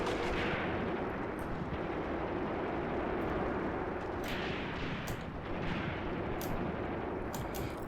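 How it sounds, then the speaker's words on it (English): Artillery barrage in the wartime strategy game Graviteam Tactics: distant rolling rumble with repeated sharp blasts spaced irregularly, fairly quiet overall and heard without talk. "So artillery barrage is on the way in."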